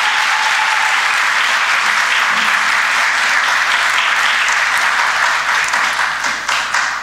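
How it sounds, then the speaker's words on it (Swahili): A crowd at a launch ceremony for electronic visa and residence permit services greets the moment with loud, dense, continuous clapping and ululation, filling the whole stretch before tapering slightly at the end. "makofi mengi na vigelegele"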